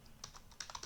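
Quick burst of several keystrokes on a computer keyboard while entering a password for a MySQL server login, soft clicks at an uneven pace, faint and close.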